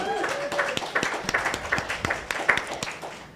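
Audience clapping for a guest entrepreneur at a live event, a steady patter of hand claps with sharper individual claps standing out, fairly close and moderately loud, with some voices mixed in.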